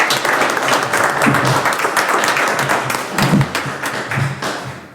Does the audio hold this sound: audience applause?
yes